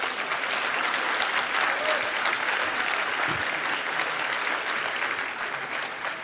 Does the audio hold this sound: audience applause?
yes